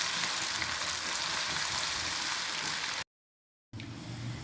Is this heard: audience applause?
no